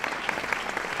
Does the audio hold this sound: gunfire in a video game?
no